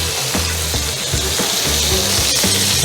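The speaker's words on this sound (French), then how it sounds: "On va garder notre huile bien chaude et on va mettre nos pommes de terre et les chouchoutes." Potatoes and chayotes frying in a pan of hot oil give a loud, steady, close sizzle with a broad crackling hiss and faint scraping stirs that continue throughout.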